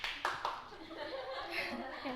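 A classroom of students gives a short burst of clapping for a classmate, brief and fairly close, with chuckles and murmured voices continuing underneath.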